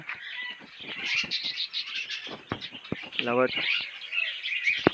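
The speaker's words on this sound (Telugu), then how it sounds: "లవ్ బర్డ్స్ అనమాట." Lovebirds at Kotappakonda zoo park chirp in quick, bright bursts, close and fairly loud, joined by a low voice briefly in the background.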